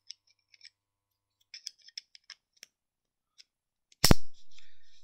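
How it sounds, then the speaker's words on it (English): Light plastic clicks and handling of a dog collar are followed by one sharp, loud snap as its plastic side-release clip is squeezed open, with a short hiss trailing behind it. "you just pinch both sides, squeeze, boom, open"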